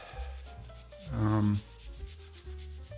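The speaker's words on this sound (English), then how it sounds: "I'm just using isopropyl rubbing alcohol, of course, to remove the old thermal paste." Old thermal paste is wiped off with isopropyl rubbing alcohol during an office PC upgrade, making close, repeated scrubbing strokes with one longer, harder rub in the middle and no talking.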